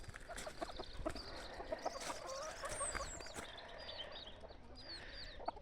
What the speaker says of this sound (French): Ici, elle est là avec ses 3 petits poussins